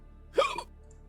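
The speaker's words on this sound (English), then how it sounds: "Hiccups. Damn ice cream." One short, abrupt hiccup from a person, close and fairly quiet, standing alone against a near-silent background.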